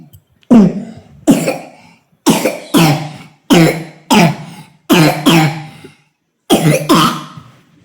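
A sick, feverish boy coughs repeatedly, close up, in sharp harsh bursts coming in quick pairs with short pauses between, about nine coughs in all.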